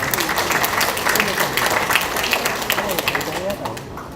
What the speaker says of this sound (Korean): 저의 말에 동의하시는 분이 있으면 박수를 쳐주십시오.